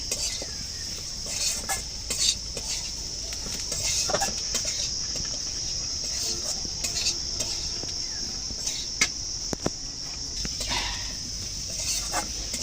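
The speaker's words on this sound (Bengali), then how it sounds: "লঙ্কা একটু ভেজে নিচ্ছি" Chili powder frying in a pan for a pumpkin-greens and puti fish curry gives a low, steady sizzle with scattered light scrapes and clinks throughout, fairly faint.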